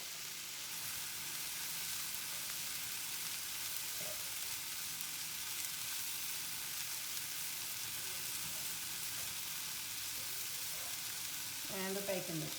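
Sausage mixture frying in a pan, a faint, steady broad sizzle held throughout, with a brief clatter of stirring near the end.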